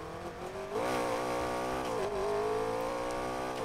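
McLaren P1 race build in Need for Speed Payback accelerates hard, its engine note climbing steadily and loudly through gear changes with a strong continuous rev over several seconds and no speech.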